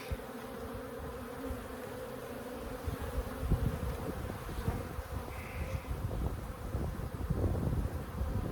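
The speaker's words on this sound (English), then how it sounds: "A lot of bees up here in this top box." Many honeybees buzz around an open hive during an inspection in a continuous, dense hum, close by, with some wind buffeting the microphone and rustling partway through.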